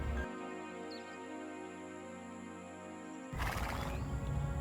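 Horses neigh and whinny outdoors among flowers, a steady background with bird and insect calls, followed by a louder rustling burst near the end.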